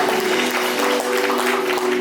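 Church congregation applause for Jesus during a Sunday worship service, a dense, steady burst of clapping over a sustained musical tone from the worship band.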